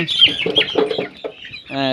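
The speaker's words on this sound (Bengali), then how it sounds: "এইটা একটা মুরগি আমরা তুলছি" Soft talking is followed by a chicken giving a brief clucking call up close.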